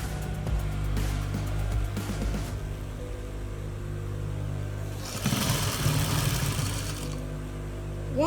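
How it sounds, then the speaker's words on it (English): A sewing machine runs steadily with a continuous mechanical hum while stitching the waistband of palazzo trousers, growing slightly louder and busier near the end. "let me sew the waist before I get my elastic to insert into it"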